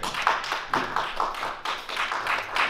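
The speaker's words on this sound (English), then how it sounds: "wonderful round of applause" Applause from a living-room concert audience after a jazz band introduction, a close, busy patter of hand claps that swells and dips in waves for a few seconds.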